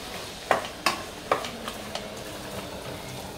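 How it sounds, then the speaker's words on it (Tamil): A spoon stirring mutton keema curry in a pan, heard as a few soft, close scraping strokes spaced about half a second apart that fade into a faint sizzle, with no talking. "இப்போ இதை நல்லா மிக்ஸ் பண்ணிக்கலாம்."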